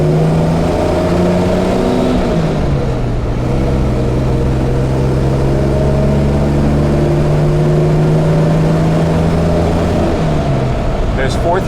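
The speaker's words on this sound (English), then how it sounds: "The engine is very responsive in this car." A 1958 Jaguar XK150 fixed-head coupe with its 3.4 liter engine hums steadily while cruising, its engine note shifting pitch through a gear change and holding a smooth, even drone close by.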